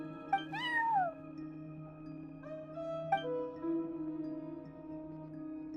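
A cat meows in Genshin Impact, a couple of distinct rising-and-falling meows, close and clear, over a soft steady game music drone.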